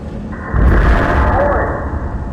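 In Five Nights at Freddy's, a loud, heavy crash hits suddenly in the Sister Location facility and then rumbles on as a sustained, booming roar with a low mechanical drone underneath.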